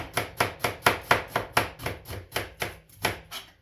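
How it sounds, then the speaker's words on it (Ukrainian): Knife slicing an onion lengthwise on a board, a steady run of about a dozen crisp, evenly spaced cuts, close and clear with no talking. "Цибулю ріжемо не поперек, а ріжемо повздовж."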